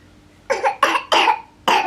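A child coughs four times in quick succession, close and fairly loud, with short pauses between the coughs.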